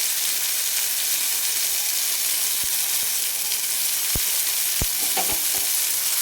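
Tomatoes salted and softening in an iron kadai sizzle with a steady broadband fry, broken by a few sharp spoon clacks against the metal pan, close and continuous with no voices.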